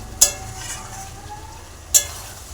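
Chicken and spices sizzling while being sautéed in a pan: a steady, soft frying hiss with two sharp clinks of a utensil against the pan, no talk.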